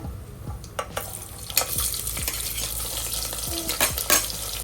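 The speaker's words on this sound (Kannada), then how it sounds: "ಸೊ ಇವಾಗ ಒಂದು 2 ಈರುಳ್ಳಿ ಹಾಕೊತಾ ಇದ್ದೀನಿ, ಈ ಥರ ಸ್ಲೈಸಾಗಿ ಕಟ್ ಮಾಡಿರೋದು" Sliced onions fry in a pan for a biryani, a steady close sizzle with several sharp stir clicks and scrapes spread through, no voices.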